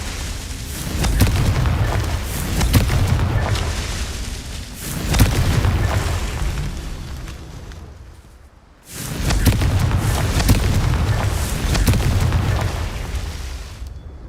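Repeated Confringo fire-spell explosions in the game Hogwarts Legacy, three long rumbling blasts in a row, each a heavy booming burst that rolls on for several seconds before fading, loud and close with no talk.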